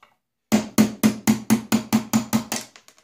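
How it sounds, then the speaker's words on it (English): Ten sharp metallic hammer blows strike a 3/16 pin punch to drive out a roll pin on a Makita XSR01 cordless saw hanger, evenly spaced and loud, followed by a few faint lighter taps. "Punch out the roll pin."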